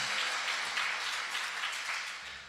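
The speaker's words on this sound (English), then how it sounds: "Give her a round of applause as she joins the angels" A congregation at a memorial gathering gives a round of applause, a soft, distant, continuous patter of many hands that fades slightly toward the end.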